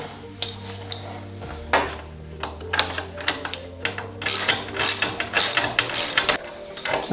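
A hand ratchet tightens bolts with washers while mating the main spars of a Sonex aircraft: quick runs of close mechanical clicks with occasional metallic clinks over a steady low hum.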